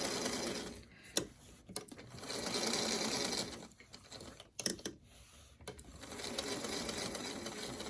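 A sewing machine stitches fabric shapes in steady bursts of rapid mechanical chatter, pausing briefly for pivots with the presser foot lifted, close and moderately loud.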